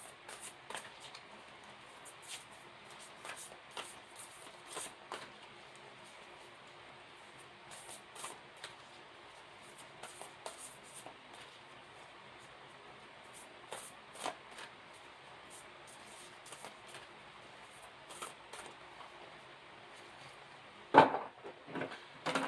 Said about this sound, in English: I shuffled this really, really good, especially those new decks